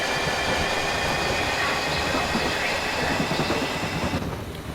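A London Underground Victoria Line 2009 Stock train pulls away in the Open.BVE simulator game, a steady rumbling roar of motors and rolling wheels that eases off slightly near the end.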